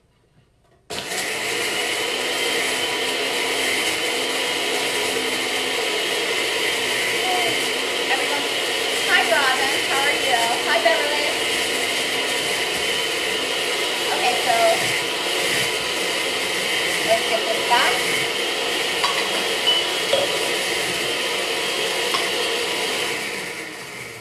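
A kitchen blender runs continuously at a steady high whine, mixing a lime juice drink made with coconut cream, with faint clatter and bumps partway through.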